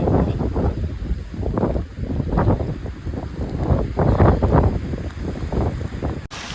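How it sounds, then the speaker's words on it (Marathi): Strong wind gusts across a monsoon trek at Harishchandragad, buffeting the microphone in loud, uneven surges that rise and fall for several seconds, with no talk. "पूर्ण हवा सुटले"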